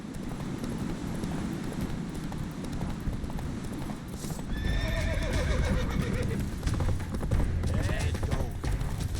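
Roach the horse in The Witcher 3 gallops with a steady run of hoofbeats, close and continuous, and gives a couple of neighs partway through, under a busy game soundscape.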